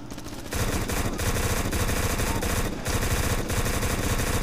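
Uzi submachine gun firing in a first-person shooter game, a loud continuous burst of rapid gunfire with brief gaps, set against dense game background noise.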